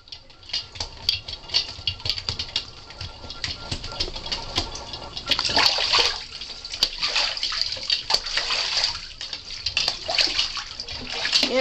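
An indoor Sebastopol goose swims in a bathtub, making continuous close splashing and pattering water with bursts of heavier sloshing as it flaps and dips.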